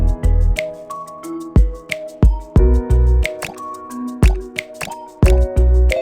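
In a puzzle video game, a plunger releases water as a quick series of synthetic, bubbly plops and squishy drips, around a dozen watery bursts in an uneven rhythm, heard alone.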